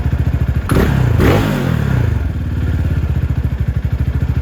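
A Venom X22R Max 250cc motorcycle engine idles with a steady chugging pulse after a brief rev that swells and falls back, close and loud.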